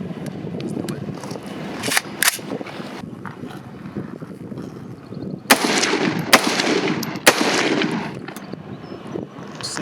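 A PSA KS-47 pistol fires cheap Russian Red Army ammunition outdoors, with several loud, sharp shots spaced irregularly over a noisy, rumbling background.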